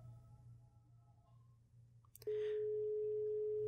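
An unanswered phone call tone begins after a short click: a steady, loud, unbroken electronic tone that carries on to the end, following low background hum.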